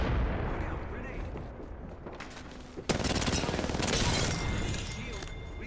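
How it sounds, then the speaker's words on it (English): Grenade blast in the battle royale shooter Apex Legends on PC, a sudden loud burst around the middle that cuts through ongoing gunfire and game noise, with a player talking over it. "Look out, grenade."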